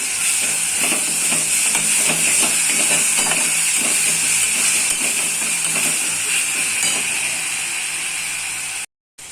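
Onions fry in a pan with tomato paste and green chillies, giving a loud continuous sizzling hiss broken by soft scraping knocks of stirring.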